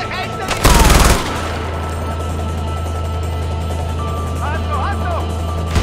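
An MG42 machine gun in Far Cry 4 on hard difficulty rips out one short, loud burst of rapid fire, then gives way to a low, steady vehicle rumble with faint chirps near the end.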